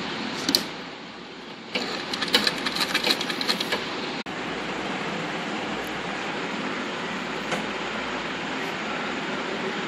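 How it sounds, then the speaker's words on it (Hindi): A sewing machine stitches fabric all the way around a back neck design, humming steadily and fairly close, with a denser burst of rapid stitching near the start and no talking. "इसको यहाँ मशीन में लगा के हम चारों ओर पूरा ऐसा मोड़ के सिल देंगे"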